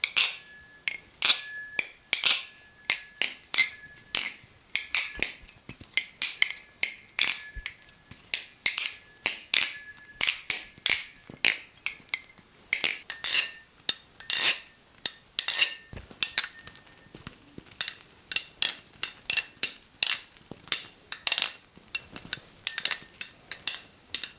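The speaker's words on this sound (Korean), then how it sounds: "티타늄 크라켄의 소리를 기대하시면 안 됩니다. 직접 들어보시고 비교해 보시죠." Rapid metallic clicks and sharp clacks of a Squid Industries titanium Kraken balisong being flipped, coming in quick irregular bursts with a faint ringing tone between, close and loud, no talking.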